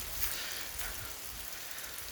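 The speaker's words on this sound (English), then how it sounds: "Oh my gosh, it's like the rain." Rain falling steadily, a broad even hiss with a few louder drop spatters, continuous and fairly close, with no speech.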